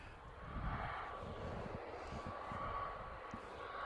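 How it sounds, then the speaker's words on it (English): Ryanair airliner arriving from Cork at Manchester Airport, a faint distant engine rumble with a thin whine, steady in the background. "Ryanair coming in from Cork"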